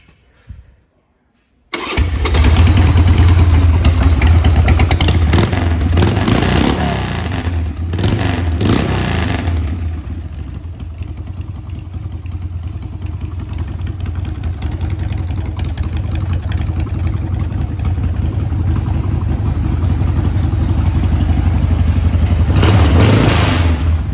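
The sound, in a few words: 1996 Harley-Davidson 883 Sportster engine starting and idling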